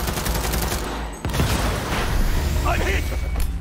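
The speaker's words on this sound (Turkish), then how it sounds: "Ulan boru patladı." A sharp burst of gunfire and a booming pipe explosion in Cyberpunk 2077, rapid cracks giving way to a rumbling explosion, close and loud.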